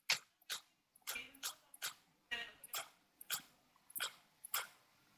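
Dogs in the video game DayZ barking repeatedly, sharp fairly close barks in an irregular series of about a dozen, quiet overall and mostly alone without talk.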